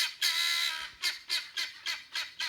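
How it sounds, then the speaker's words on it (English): Birds squawking at night in rural Kentucky, a long harsh call followed by a run of five or six short, evenly spaced squawks, fairly close and loud with no talk over them. "you hear my birds? They're crazy this time of the night."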